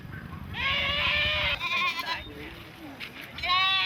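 Goats bleat loudly and repeatedly at a livestock market in northern Vietnam, the harmonic cries overlapping in a busy crowd with steady background chatter.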